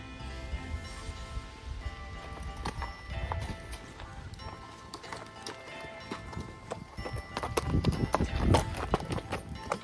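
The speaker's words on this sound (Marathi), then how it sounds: "इकडनं आता घोडा येईल जबरदस्तपैकी" Hooves clip-clopping in an uneven run, growing louder and heavier toward the end, with outdoor rustle and a faint whinny.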